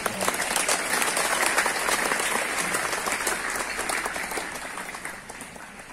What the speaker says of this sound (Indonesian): Tepuk tangan buat Pripara SMA